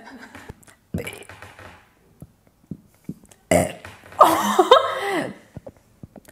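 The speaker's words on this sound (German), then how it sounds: "Soll ich BMW rülpsen?" Woman burping out the letters of BMW, a few short breaths and clicks first, then a long loud voiced belch rising and falling in pitch, close up, with slight laughter around it.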